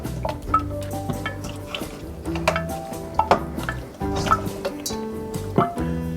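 Pork pieces are moved into a bowl and mixed with garlic black bean sauce, producing wet squishing, sticky slaps and light clinks of the utensil against the bowl, close and uneven.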